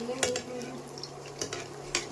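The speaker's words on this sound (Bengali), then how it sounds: "কুমড়ো ফুলের বড়া ভাজা হচ্ছে" Soft sizzle of pumpkin flower fritters frying in a pan with a few sharp clinks of a utensil against the cookware, close and fairly quiet.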